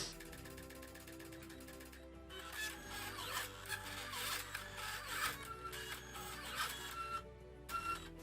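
A Silhouette Cameo vinyl cutter cuts thick emblem material for a custom BMW badge, giving steady mechanical whirring with rhythmic ratcheting and clicking motor movements, fairly quiet and heard alone.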